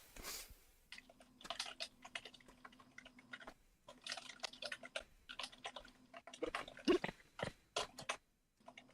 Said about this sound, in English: Keyboard slapping sounds intensify.